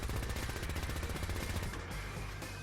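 A Fallout 4 Gatling laser with accelerated barrels fires a fast, unbroken buzzing stream of shots, steady and close throughout.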